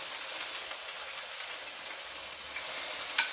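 Strips of tofu fry in hot oil, giving a steady, close, crackling sizzle with occasional sharper pops and no talking.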